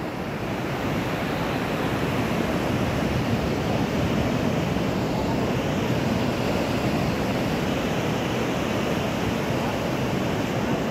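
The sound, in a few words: sea waves at the Teknaf zero point border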